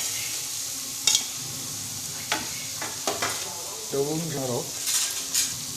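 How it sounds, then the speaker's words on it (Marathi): Chopped onion is stirred and sizzling in a pan for Maharashtrian zunka, with a steady frying hiss and spoon scrapes recurring through it, up close, and a brief voice in between. "आता हे पूर्ण कांदा शिजेपर्यंत ढवळून घेणार"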